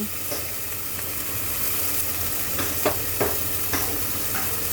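Spice paste fries in a pan for an egg curry, sizzling continuously while a spoon stirs it, with a few sharp scraping clicks against the pan near the end.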